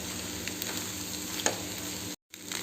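Lemon rice is stirred in a frying pan, a soft steady sizzle with faint scraping strokes, quiet and close, broken by a brief silent gap near the end.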